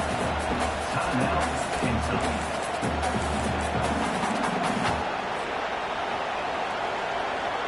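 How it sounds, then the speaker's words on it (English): A loud, continuous roar of a large stadium crowd at a football game fills the space, with a commentator's voice over it for the first several seconds. "This crowd bringing the energy and noise early."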